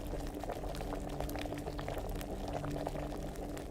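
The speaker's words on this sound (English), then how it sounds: "Yeah, and it's still kind of boiling on its own." Liquid boiling in an alchemy cauldron in Kingdom Come: Deliverance, a steady close bubbling and gurgling with dense popping, continuous and unbroken with no voices.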